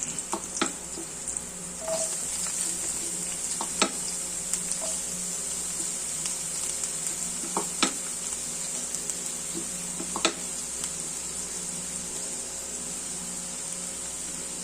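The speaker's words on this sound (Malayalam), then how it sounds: "അപ്പോൾ നമുക്ക് സവാള ഇടാം" Onions sizzle steadily in hot oil in a pan for a bean pepper fry, a constant bright crackling hiss broken by a few sharp spatter pops and light utensil taps, close by with no talking.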